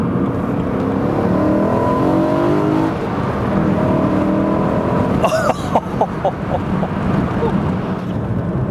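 A BMW E92 M3 engine roars steadily at speed, then revs up sharply with rising, stepped gear-change tones, loud and close, over constant road noise.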